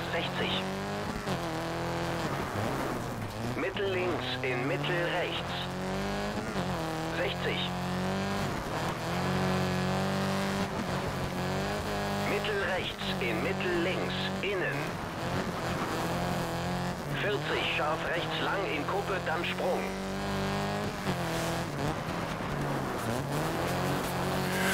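Rally car engine revving and tyres squealing on loose surfaces in Colin McRae Dirt 2, a continuous rising and falling engine drone with gear shifts and skids, under steady talking throughout.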